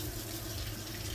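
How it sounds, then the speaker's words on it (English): Hot water runs from a kitchen tap into a pot of soaking potatoes, a steady, faint, even rush with no talk over it. "I'm going to go ahead and put some hot water in here."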